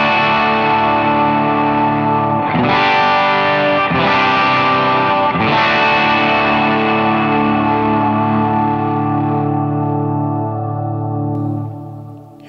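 Distorted electric guitar chords through a Morning Glory drive pedal on the bridge pickup of a Veritas Custom Minimaster ring out with delay and reverb, three strums in succession, each sustaining and slowly fading into a long tail.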